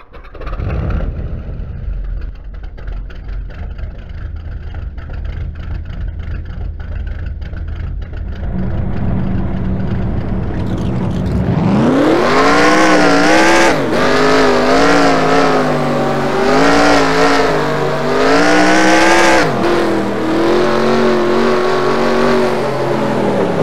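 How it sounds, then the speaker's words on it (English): Race car engines in the NASCAR Racing 2003 video game, a low idle rumble that surges into loud, sustained revving with rising and falling pitch sweeps, no talking. "Drivers, start your engines!"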